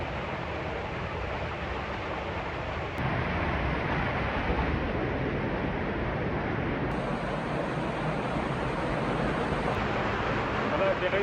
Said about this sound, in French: il y a une autre cascade au fond de la grotte